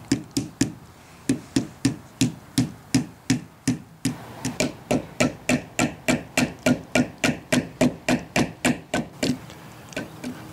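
Steady series of about thirty sharp hammer blows from the hammer of a Leatherman Signal multitool, struck in a quick, even rhythm, close and distinct with a brief pause partway through.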